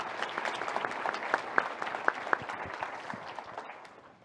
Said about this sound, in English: Can we have a round of applause for Jessica, please?